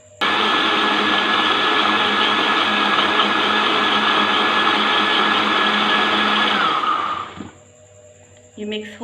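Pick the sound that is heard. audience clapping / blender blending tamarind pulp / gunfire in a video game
blender blending tamarind pulp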